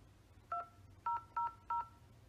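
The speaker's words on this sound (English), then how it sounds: "Please press the number on your phone." Telephone keypad DTMF tones entered into an automated phone system, four short clean beeps in a quick irregular sequence over a faint hum.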